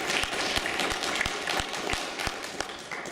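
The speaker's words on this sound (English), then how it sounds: "let's have a round of applause for" Audience applause at a Comic-Con convention panel, a steady dense wash of clapping from a sizable crowd with a few sharper individual claps standing out, loud and continuous through the whole stretch.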